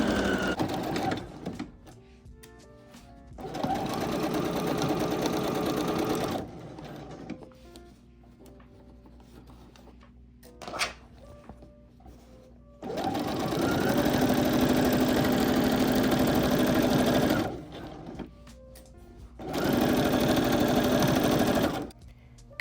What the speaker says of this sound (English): Pin your pieces together, then sew them down using a straight stitch, leaving the raw edges exposed for texture.